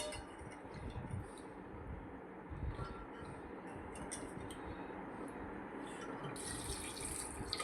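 Water poured into a pressure cooker holding soaked chickpeas, a continuous close rush of water with a brighter splash toward the end.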